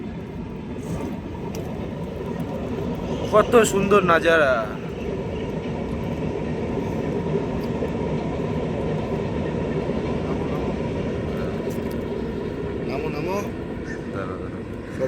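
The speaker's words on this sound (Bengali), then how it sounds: "ওই যে ট্রেন যাচ্ছে দেখো ট্রেন" A steady low rumble of a passing train in a rural village area carries on throughout, with a voice talking over it and faint clanks from the cars.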